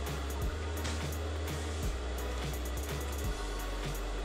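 A sewing machine stitches a trendy kameez or kurti neckline, its motor running as a steady close drone with faint repeating ticks of the needle throughout, with no talking.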